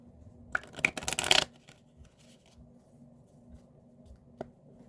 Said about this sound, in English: Start shuffling cards backwards.